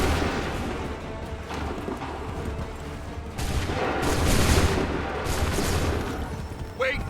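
Massed musket volley fire crackles and booms in waves across a battlefield in Assassin's Creed III, dense and continuous, growing louder midway.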